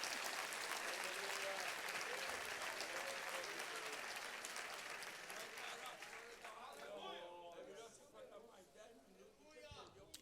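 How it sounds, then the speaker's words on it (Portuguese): A church congregation applauds, a loud burst of many hands clapping that gradually thins and fades over several seconds while a voice speaks over the dwindling claps. "Se vai aplaudir o Senhor, aplauda forte"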